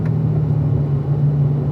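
Inside a car lapping a race track, the engine gives a loud, steady low drone and rumble at constant speed, heard alone without voices.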